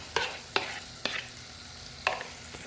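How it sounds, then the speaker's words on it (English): A spoon stirs yogurt through a pan with a few distinct scraping strokes, about four spaced clacks over a soft, faint sizzle. "we will add about 3 tablespoons of yogurt in here, and after adding this we need to give it a quick stir"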